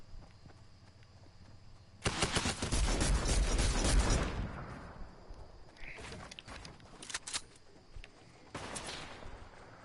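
Sniper and other gunfire in an online shooter game, with a dense burst of rapid loud shots followed by shorter scattered volleys and a final cluster, all fairly close and without talk.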